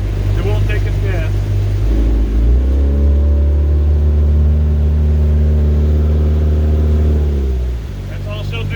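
The engine of a Caravelle 1750 boat runs loudly and close on the water, with a steady low drone that shifts pitch as the throttle changes, then eases off near the end.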